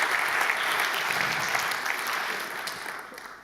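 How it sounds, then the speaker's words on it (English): A conference audience gives a round of applause for the organizers: dense, sustained clapping from a large crowd, loud at first and gradually tapering off toward the end. "please, round of applause for the organizers"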